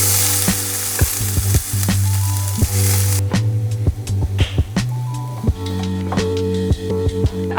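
Chopped onion stews in a pan with a steady frying sizzle and repeated sharp clinks and scrapes of stirring, close and loud with no talking.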